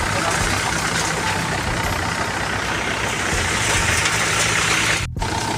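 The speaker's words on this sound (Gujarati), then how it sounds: "કોકણીમાં ચાલુ છે ટ્રેક્ટર" Tractor engine idling in a steady, loud continuous rumble close by, with a brief dropout near the end; a voice may be faintly present.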